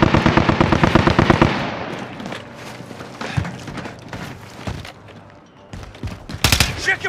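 Video game gunfire opens with rapid, loud automatic bursts, then thins out into scattered single shots and distant pops, with a final sharp cluster of shots near the end.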